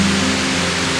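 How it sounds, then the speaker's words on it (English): Waterfalls along a snowy hiking trail send out a loud, unbroken roar of rushing water from close range. The steady wash fills the scene with no voices over it. "I hope you can hear me over the waterfalls."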